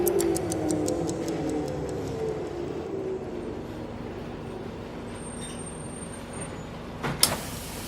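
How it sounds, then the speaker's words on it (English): A bus pulls into a bus station with a rumbling engine that slows and fades, regular ticking like an indicator at first, then a brief high whine and a sharp knock near the end. "the bus pulls into the bus station"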